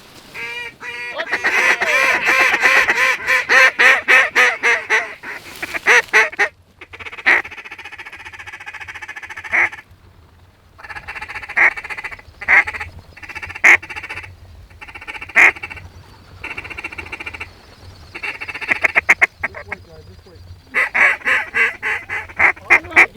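Loud, busy quacking and honking from many mallard ducks during a Kansas duck hunt, repeated calls in rapid bursts, some very close, with gaps of quieter background.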